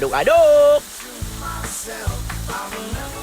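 Spring onion and crushed garlic sizzle and crackle in a hot pan as they are stirred, a steady frying hiss with scraping stir strokes, opening with a loud burst that settles into a softer continuous sizzle.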